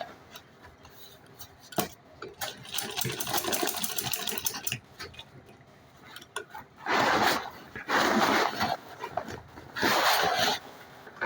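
A sewing machine stitches a large fabric travel bag, running in several bursts with pauses between them. Each burst is a close, steady run of needle clatter, and softer handling noises fill the gaps.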